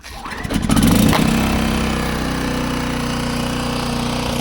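A VOIN DV-1500i inverter generator fires up with a brief rattling burst of cranking, then settles into a steady, even running drone that holds to the end.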